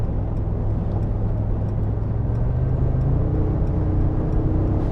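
A Brabus XLP 900 pickup truck with 900 horsepower, weighing three tonnes, accelerates hard in sport mode. Its engine is a deep, loud rumble whose pitch rises steadily, heard from inside the cab.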